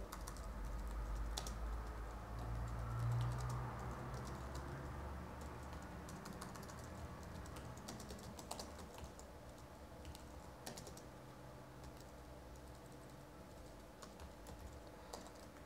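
Programming code typed on a computer keyboard, a continuous patter of light key clicks with small bursts and pauses, close and quiet, with a faint background hum and no speech.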